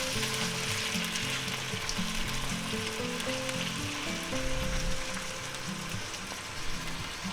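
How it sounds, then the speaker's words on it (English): Onions and red and green peppers are stir fried in a pan, giving a steady sizzle under faint scraping and clinking from the stirring. "I'm going to stir fry them up a little."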